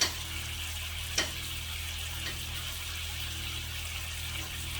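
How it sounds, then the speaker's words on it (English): Mushrooms sizzle and char in a hot pan beside T-bone steaks, a constant close frying hiss with a couple of brief clinks or scrapes of a utensil. "Almost done with the mushroom. Letting that char a little bit on that side."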